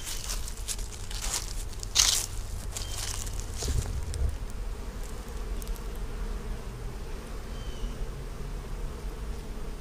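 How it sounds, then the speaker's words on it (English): Honeybees working around a hive during a fall harvest with goldenrod in bloom, a steady, close swarm-like hum with a few nearby crackles and thumps from handling the hive. "these bees are absolutely working"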